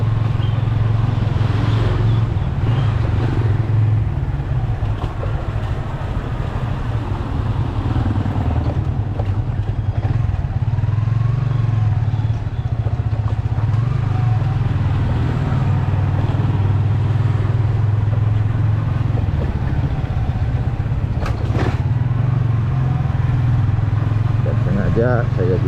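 A motorcycle rumbling steadily along a road, its low engine drone continuous and close throughout with passing traffic and wind, while someone talks over it.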